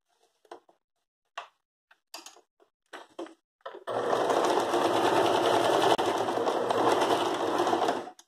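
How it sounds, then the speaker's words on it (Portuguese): After a few light taps and clicks, a sewing machine runs continuously for about four seconds, stitching a straight line on a floral quilted rug with a steady, close whir. "isso aqui é um bom treino para costurar a linha reta"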